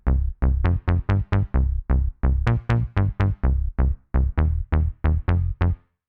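House bass line from the OXE FM synth using its Lately bass preset: punchy, evenly spaced low notes in a steady bouncing rhythm, loud and close with no voices.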